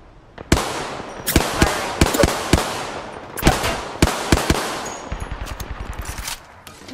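Close, loud gunfire in Apex Legends: scattered single shots and short bursts, then a rapid automatic string of shots near the end.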